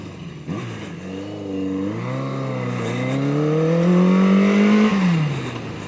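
A Yamaha 750 Seca motorcycle engine revs up close by, its pitch climbing steadily over several seconds before easing back slightly, loud and continuous with no voices.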